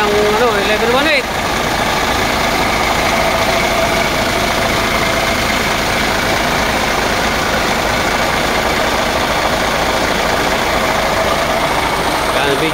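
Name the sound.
vehicle engine running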